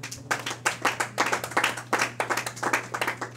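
A church congregation claps together in a quick, uneven rhythm, many hands striking in repeated loud pulses over a steady low hum, with no talking.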